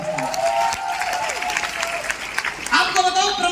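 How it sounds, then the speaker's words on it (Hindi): Loud applause from a crowd at a celebratory gathering in Lucknow, steady clapping with cheering mixed in and voices over it. "जोरदार तालियां"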